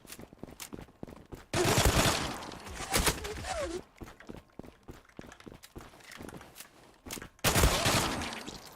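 Gunfire in the online shooter Zula comes as bursts of loud shots with sharp single cracks between them, along with footstep-like thuds and brief quiet stretches.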